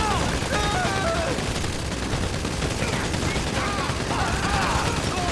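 Tommy gun fire during a GTA Online survival job: dense, continuous automatic bursts mixed with other gunfire, loud and close throughout, with voices talking over it.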